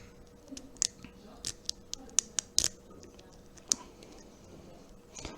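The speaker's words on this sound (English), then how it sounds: "you can hear that clicking noise means that you're getting down a pin" Small, sharp clicks sound from a lock pin being set during lock picking, scattered irregularly and close up over a quiet background.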